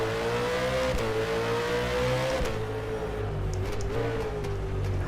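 A V8 Supercar engine in the rFactor 2 racing sim drones loudly and steadily at high revs, with brief dips in pitch at gear changes and no talking over it.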